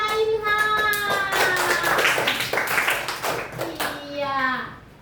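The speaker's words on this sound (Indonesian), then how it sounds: "Tepuk tangan untuk Nak Ilham." A class of children claps for their classmate Ilham, a lively burst of rapid overlapping hand claps under the teacher's voice, tapering off as she speaks again.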